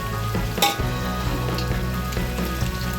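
Macaroni pasta being tossed and mixed in a frying pan with pepper, a loud continuous frying sizzle with clattering spoon strokes, one sharp knock early and softer scrapes after.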